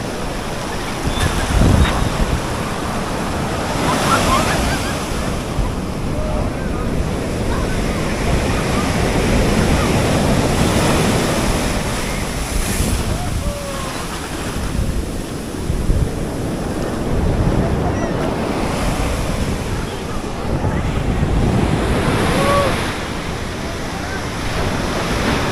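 Strong waves break repeatedly on Los Almendros beach, Acajutla, El Salvador, a continuous loud roar of surf that swells and recedes with wind across the microphone.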